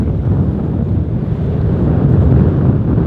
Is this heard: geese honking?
no